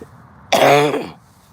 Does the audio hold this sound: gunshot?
no